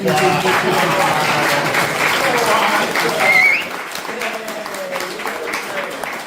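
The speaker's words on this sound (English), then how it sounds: "give him another round of applause" An audience applauds with dense, steady clapping that fades slightly toward the end, with voices faintly mixed in.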